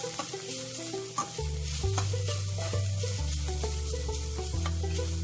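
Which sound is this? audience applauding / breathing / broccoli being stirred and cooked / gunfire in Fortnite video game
broccoli being stirred and cooked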